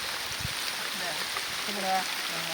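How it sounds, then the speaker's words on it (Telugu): Steady rain falling over a village, a continuous close hiss of drops with a faint low murmur of voices and a brief higher tone underneath. "వర్షం అయితే చూడండి ఎలా వచ్చేసిందో వర్షం మా ఊళ్ళో"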